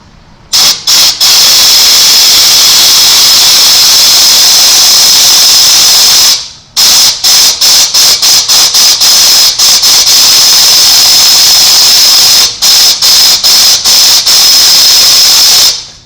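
Compressed air hisses loudly from a rubber-tipped blow nozzle pushed into the brake bleeder port of a 1980 Chevy C30 dually truck, in several sustained bursts broken by quick on-off pulses.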